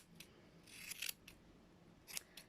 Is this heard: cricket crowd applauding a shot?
no